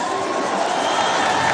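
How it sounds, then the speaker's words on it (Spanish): A dense crowd at a political rally in Mexico City's Zócalo roars in a steady wash of cheering and applause, loud and continuous throughout. "Un aplauso para ellos."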